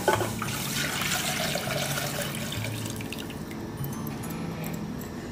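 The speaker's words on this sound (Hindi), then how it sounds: "अब हम इसमें डालेंगे दूध।" Milk being poured into a cooking pot for sheer khurma, a steady liquid splash and trickle that stays close and even for several seconds before easing slightly, with no talk.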